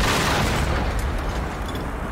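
A rocket launcher blast in the video game Generation Zero: a loud, dense boom that fills the whole moment and rumbles on without a break, heard alone with no talk over it.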